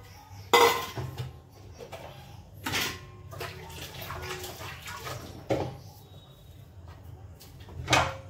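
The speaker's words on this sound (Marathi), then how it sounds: "पटकन पटकन भांडी घासून घेते" Dishes being hand-washed at a home kitchen sink, with running water and sharp clinks and clatters of pots and utensils at irregular moments, close by.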